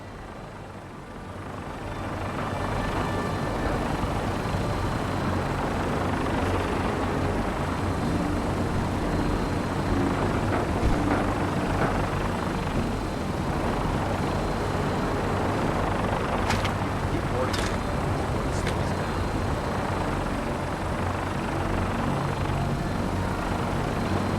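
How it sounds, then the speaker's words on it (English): Sustained broadband rotor and engine roar of a Fallout 4 vertibird gunship, steady and loud throughout after a short fade-in, with a few brief high tones near the end and no speech. "Now, we have a vertibird on standby, fully armed, and ready to depart."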